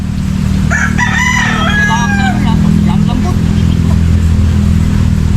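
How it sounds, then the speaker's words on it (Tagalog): A motorcycle engine runs steadily in a rural farm setting, a low continuous drone, while a rooster crows loudly over it partway through. "Motor."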